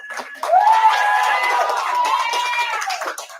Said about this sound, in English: Let's clap it up for Eric.